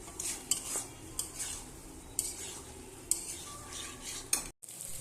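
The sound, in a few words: sautéing and stirring prawn curry with potato and pointed gourd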